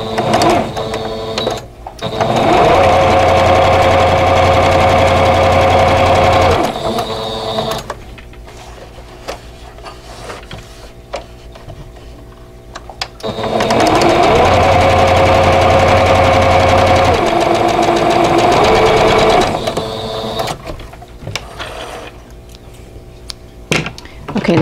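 A sewing machine stitches a quarter-inch seam along a drawn line on quilt fabric for a vintage quilt block, running in two long loud steady bursts separated by a quieter pause with light handling thumps.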